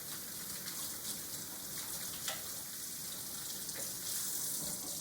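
Tap water runs in a steady hiss while soap is rinsed off hands, constant and close with a few small splashes and no voices.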